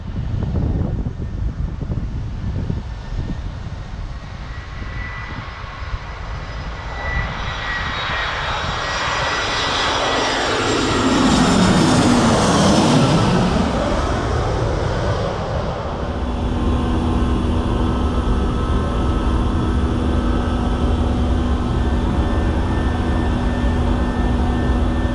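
Airplane engine in flight, a steady loud cabin drone with a sweeping surge in the middle as engine pitch shifts, then a settled constant hum with tonal whine, no talking.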